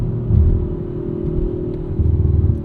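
A 2023 Audi RS5 Competition's twin-turbo V6 rumbles steadily from inside the cabin on a snowy morning commute, a deep low drone that swells slightly as the engine pulls, with no talk.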